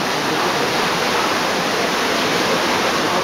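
Shallow floodwater flows in a strong current along a road during a typhoon, a steady loud rushing wash with no pauses and no voices.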